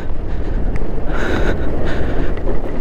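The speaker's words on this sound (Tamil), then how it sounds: "இந்த காற்று வேற நம்மளை" Strong wind buffets the microphone in heavy, continuous low roaring gusts, loud and close throughout, during a motorcycle ride on a rough road in Ladakh.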